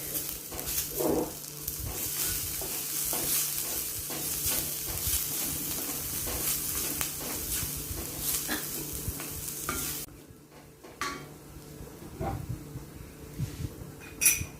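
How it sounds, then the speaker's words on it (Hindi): Ginger and green chili being sautéed in a pan for spring roll stuffing: a constant sizzle under repeated scraping stirs of a spoon, quieting after about ten seconds to sparser clinks and scrapes. "थोड़ी देर अदरक को सौते करके उसके बाद हम इसमें हरी मिर्च डाल देंगे।"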